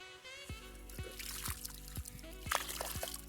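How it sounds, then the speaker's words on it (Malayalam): Water poured from close by into a crab burrow makes a quiet trickling, gurgling sound with soft splashes over a low background hum. "സുജിത്തെ കുറച്ച് വെള്ളം ഒഴിച്ച് നമുക്കൊന്ന് ഞണ്ടുണ്ടോ നമുക്ക് നോക്കാം."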